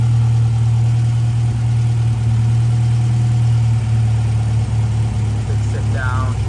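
Austin-Healey 100/4 BN1 engine idling steadily after a cold start, a continuous low, even rumble held throughout with only slight shifts, with some faint background noise near the end.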